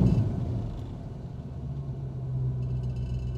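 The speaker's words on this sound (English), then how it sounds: "right now we're sitting here, we're at idle." A 1972 Chevy Camaro engine idles with a low, even rumble, heard fairly quietly and continuously with no talk.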